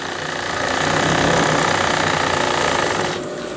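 A sewing machine runs a straight line of stitching along a pajama hem, one continuous close burst of rapid mechanical chatter that eases off near the end.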